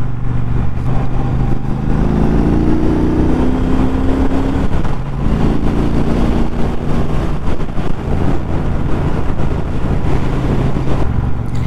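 A 2019 Triumph Bobber Black motorcycle cruises in second gear at around 30, its engine a loud, steady drone mixed with constant wind rush throughout.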